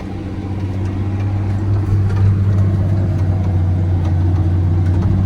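A tractor engine labours under load while ploughing a field, a loud, continuous low drone with a steady hum that swells slightly midway, with no voices.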